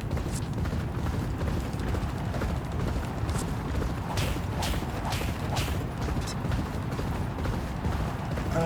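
Horse hooves galloping in a horse racing video game, a dense steady rumble of repeated clip-clop beats with mechanical clatter, continuous and fairly loud throughout with no talking.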